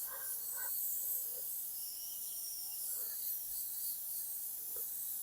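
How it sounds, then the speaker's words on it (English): A light, continuous airy hiss from an airbrush spraying paint in short, gentle passes for a fade. It stays soft and steady throughout, with faint knocks and handling noises under it. "just lightly just working the airbrush"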